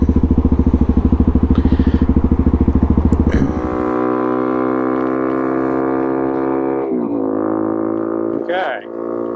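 A supermoto motorcycle accelerates hard toward top speed. A fast, pulsing engine note runs at close range, then shifts up into fifth gear, where a steadier, higher drone holds loudly to the end.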